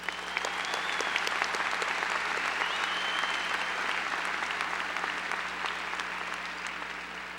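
Steady, full applause from a large crowd at the 2015 Del Valle High School graduation ceremony, honoring Honor Society graduates, sustained and even throughout at a moderate distance.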